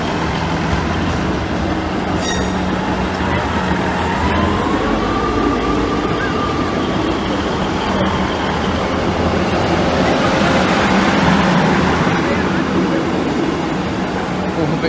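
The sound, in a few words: passenger train passing Lincoln High Street level crossing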